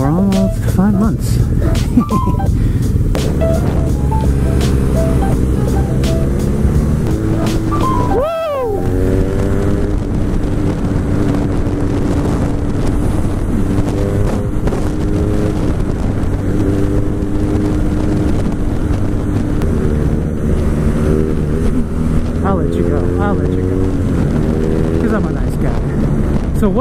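Motorcycle cruising slowly toward canyon roads in the Angeles National Forest, its steady engine drone rising and falling through gear changes under constant loud wind buffeting the microphone, with a brief dip midway.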